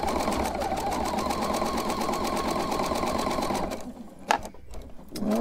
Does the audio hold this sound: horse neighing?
no